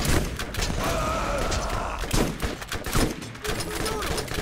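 SMG fire from the Borderlands video game comes in rapid bursts of shots and thumps, mixed with other game effects, while someone talks over the action.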